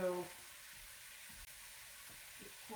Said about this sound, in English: can you hear that sizzle through the steam?